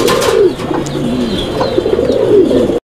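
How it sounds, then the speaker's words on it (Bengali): A pair of Mukhi pigeons coo nearby, loud and close. Their soft, rolling calls repeat and overlap over a faint background. "এটাও মুখী কবুতরের একটা জোড়া।"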